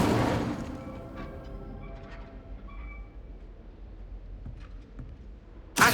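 An Incendio fire spell is cast in Hogwarts Legacy, opening with a sharp, loud burst that fades into a low crackling rumble. A second abrupt hit snaps in right at the end.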